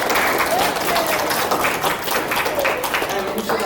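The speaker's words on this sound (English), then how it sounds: "give them a round of applause." A chess club audience claps during a lecture, giving a steady, dense round of applause from many hands that fills the room at close range throughout.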